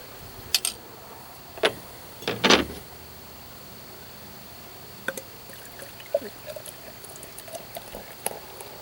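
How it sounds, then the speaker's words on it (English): Founders beer is poured into a glass and builds a big foamy head: a few sharp glugs and splashes near the start, then a quieter fizzing trickle with small ticks as the foam settles. "I poured a big old head on it"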